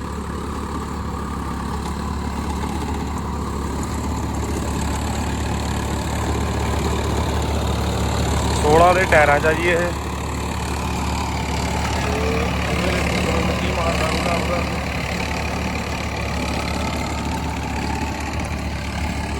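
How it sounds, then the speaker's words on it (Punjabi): A Swaraj tractor, a newer 2020 model, runs steadily while working a rotavator through wet field soil, its low engine drone continuous throughout with a brief louder rise midway and someone talking over it. "ਟਰੈਕਟਰ ਬਿਲਕੁਲ ਆਰਾਮ ਨਾਲ ਚੱਲ ਰਿਹਾ"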